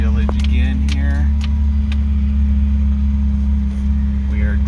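A car rolls through a mountain village on Mt Baldy Road, its engine a steady low hum with constant road rumble, and a voice briefly speaks over it.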